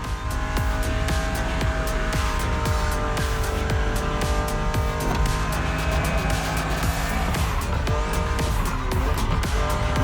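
A BMW Z roadster, a two-seat sports car, races in The Crew Motorfest with a loud, steady engine roar and repeated gear shifts and tire squeals, close and continuous throughout.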